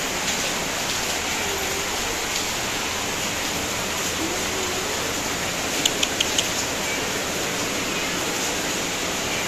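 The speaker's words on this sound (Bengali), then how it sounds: "প্রচণ্ড বৃষ্টি পড়ছে" Heavy rain pours down in a steady, dense hiss that fills the scene from start to finish, with no voices and only a couple of faint clicks near the end.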